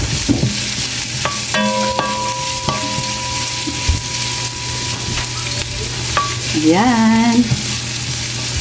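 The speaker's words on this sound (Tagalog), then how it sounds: "Gisa-gisa muna tayo." Onions and ginger sautéing in oil for green beans with shrimp make a loud, constant crackling sizzle, with occasional stirring clunks and some tonal background noises, and a voice briefly speaks a single word.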